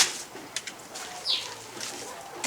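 Laying hens in a poultry pen of about 300 birds on a Nigerian layer farm, soft scattered clucks and brief wing flaps at close range over a hushed, breathy background.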